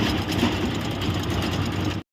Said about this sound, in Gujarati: ટ્રેક્ટર ચલાવતા હતા એટલો બધો અવાજ કરે છે ટ્રેક્ટર મારી પાછળ તમે જુઓ ટ્રેક્ટર ચાલે છે